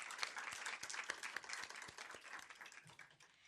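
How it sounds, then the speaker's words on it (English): Audience applause at a school board meeting honouring students, brisk crowd clapping with distinct individual claps near the microphone, gradually thinning toward the end. "let's still give him a round of applause"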